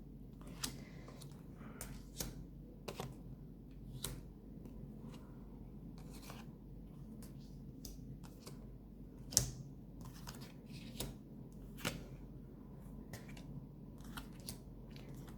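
Cards handled and turned over one by one during a French tarot-style reading, producing soft close taps and flicks spaced every second or so over a faint steady background hush.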